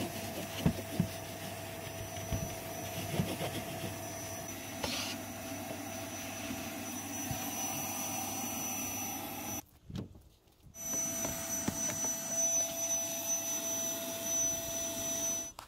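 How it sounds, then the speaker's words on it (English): A hoover vacuums a car's interior, including the passenger footwell, giving a steady loud whine with a brief cutoff and restart midway, continuous and close with no talking. "So that's the passenger footwell all hoovered up there."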